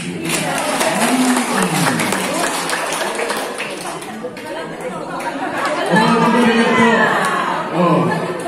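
Applause and crowd chatter at the opening of a teacher training event, a broad wash of clapping mixed with many voices, with a person speaking over it at the start and again near the end.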